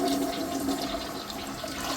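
A toilet with a water-saving tank insert flushes, a loud rushing swirl of water draining through the bowl, steady and close throughout with no talk.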